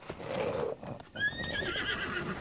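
A horse in Zelda: Breath of the Wild whinnies loudly and close, a rising then falling neigh over game ambience with faint hoof clops.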